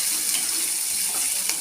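Onion sizzles in a hot pan with oil, a steady bright hiss with fine crackle throughout, close and fairly loud.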